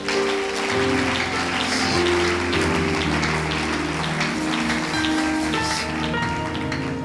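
A church congregation applauding the Lord, a dense, steady wash of clapping that holds throughout, with sustained musical tones underneath.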